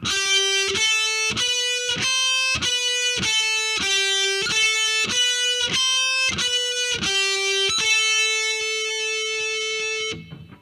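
Distorted heavy metal electric guitar plays a repeating lick of quick picked notes in a steady rhythm, looping a short phrase before ending on a long sustained note, loud and close with no speech.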